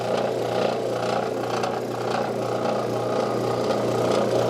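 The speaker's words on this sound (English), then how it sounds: "When the wheel is spun, it expands out and holds the abrasive in place." A wet grinding wheel spinning steadily with abrasive held in place, producing a constant low motor hum and whirring drone with light rattling, even in level throughout and with no talking.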